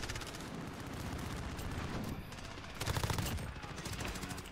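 Incendiary gunfire in Call of Duty Modern Warfare rattles in rapid automatic bursts, dense and fairly loud, with a heavier burst near the end over constant game noise.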